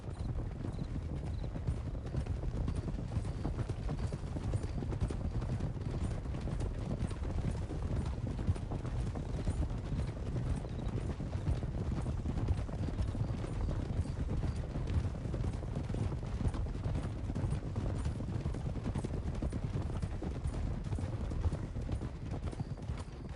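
Horses' hooves clip-clop steadily in the video game Red Dead Redemption 2, a continuous rhythmic trotting of several horses at moderate level, with no talk.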